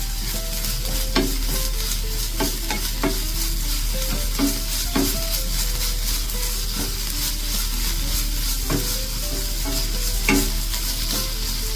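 Ginger-garlic paste being sautéed in a pan for street-style masala pav. A loud, steady sizzle runs throughout, broken by regular scraping and clinking as it is stirred.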